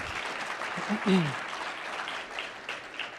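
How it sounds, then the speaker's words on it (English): Audience clapping at a startup competition regional qualifier, a dense patter of applause for sponsors with a brief voice rising over it midway, moderately distant. "So one more round of applause for all of our sponsors."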